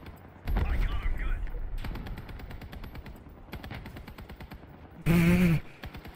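Vehicle weapons in the Crossout video game fire in a rapid, sustained burst, then fall into quieter rattling, with a short loud blast near the end; a voice talks over it at times.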